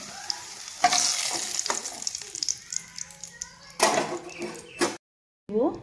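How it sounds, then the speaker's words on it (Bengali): Potato pieces with turmeric fry in hot oil in a home kitchen, a steady sizzle with scraping stirs and clatter of a spoon against the pan, broken by a brief silence near the end before the frying resumes. "আলুটাকে ভেজে নিব, তুলে নিব।"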